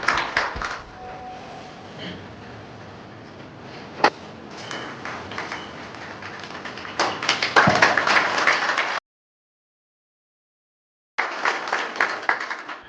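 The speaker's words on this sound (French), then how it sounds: "Applaudissez." An audience claps at a contract signing ceremony, scattered uneven applause with a few sharp thumps, building louder toward the end, then a brief gap of silence before the clapping resumes.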